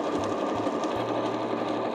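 A sewing machine quilts through fabric scraps along chalk-marked lines, a loud, close, continuous motor hum with rapid needle clatter, briefly pausing and restarting before running steadily, with no voices.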